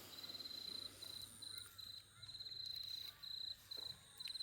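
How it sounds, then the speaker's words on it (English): Crickets chirp in steady, rapid pulses at dusk, faint and distant in an otherwise quiet outdoor setting, with no one speaking. "Crickets,"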